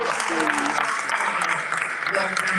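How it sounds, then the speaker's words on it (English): An audience at a South Florida athletic awards ceremony breaks into a round of applause, a dense, full wash of clapping with voices calling out over it briefly. "one more well-deserved round of applause for one of the greatest"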